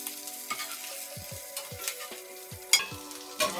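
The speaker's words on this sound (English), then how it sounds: "now you can kind of start flipping it around in the pan" Chickpea scramble batter frying in a pan, turned over with a spatula: a steady soft sizzle broken by several light scraping flips and taps, close and alone without voices.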